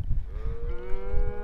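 Cattle on a ranch pasture during a roundup ahead of branding give one long, sustained low moo, close and clear over a soft rumble of outdoor background noise.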